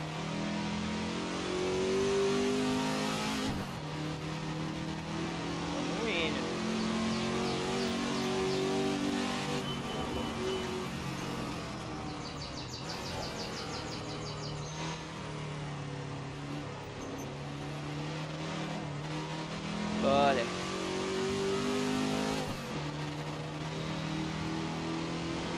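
A Ford GT40 racing engine in the Assetto Corsa driving game revs hard and steadily throughout, rising and falling through gear changes with no voices over it.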